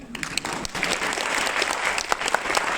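Audience applause in a live talk hall, steady dense clapping from a crowd throughout with scattered sharper claps standing out, no voices over it.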